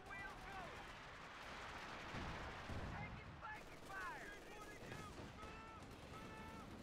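Rapid bursts of anti-tank gun fire in a video game, a fast machine-gun-like rate of shots mixed with explosions and battle noise, continuous and dense, under a commentator's voice.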